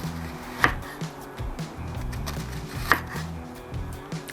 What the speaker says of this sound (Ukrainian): Цибулю ріжу товщиною приблизно 2-3 мм.